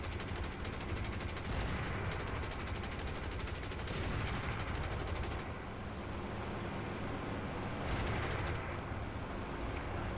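Aircraft guns on an XA-38 Grizzly in the War Thunder combat flight game, firing in several long rattling bursts over a steady roaring engine drone, fairly distant and continuous.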